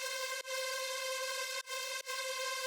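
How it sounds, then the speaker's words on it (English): A wide, heavily reverberant, screaming detuned supersaw synth lead layer sustains loudly and alone, with three brief dropouts where notes retrigger. "really reverby and screamy lead layer that sounds like this"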